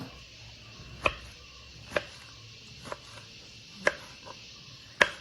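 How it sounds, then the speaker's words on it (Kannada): A knife chops peeled ridge gourd into small pieces on a board, five or six sharp, separate taps spaced about a second apart over a quiet background. "ಎಲ್ಲವೂ ನೀಟಾಗಿ ಸಿಪ್ಪೆ ತೆಗೆದ ನಂತರ ಸಣ್ಣ ಸಣ್ಣದಾಗಿ ಕಟ್ ಮಾಡಿಕೊಳ್ಬೇಕು"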